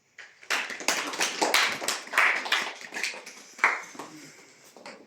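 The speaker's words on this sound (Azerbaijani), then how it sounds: "sonda hər kəs özü-özünü alqışlasın" Audience at a book presentation in a local history museum breaking into applause, a steady burst of many hands clapping close by for several seconds before tapering off.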